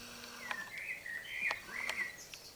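A small bird gives a short series of faint, high whistled chirps with quick rising and falling notes against a quiet background.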